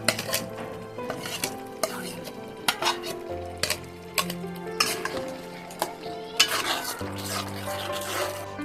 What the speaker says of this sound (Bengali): গ্যাসটা ফ্লেমটা হালকা রেখে আমরা একটু ডিমের সাথে ওই গ্রেভিটা একটু কষিয়ে নেব হালকা করে।